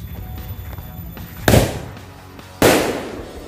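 Two powerful Lebaran firecrackers explode one after another outdoors, each a loud sharp bang with a ringing decay, about a second apart, after a quiet lead-in.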